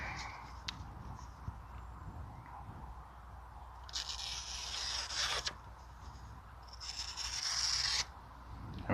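A freshly sharpened knife slices through a sheet of paper in two short, crisp, hissing cuts, close and quiet over a faint background hum.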